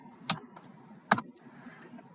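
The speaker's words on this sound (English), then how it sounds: "So let's just type that the right way." Brief typing on a computer keyboard in a quiet room: two distinct, fairly soft key clicks about a second apart.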